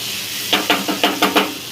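Chicken curry with flat beans and curry leaves simmers in a pan, six short bursts of bubbling and spitting in quick succession over a soft steady hiss.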